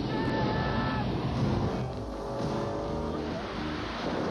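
A car roaring through a stunt driving sequence, a loud, dense engine roar with rushing noise throughout, under a faint voice.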